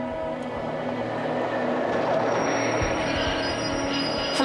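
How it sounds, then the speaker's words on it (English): A train rolls along a railway line with a continuous rumbling roar and high wheel squeal that swells slightly as it draws near, steady throughout with a sharper clank at the end. "But a train's coming."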